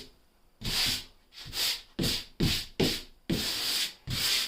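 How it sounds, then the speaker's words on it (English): Light hand sanding of the high edges on a first coat of paint: a run of about eight short, raspy rubbing strokes in an uneven rhythm, close and clear with no talk. "Not much sanding, just knock off the high edges."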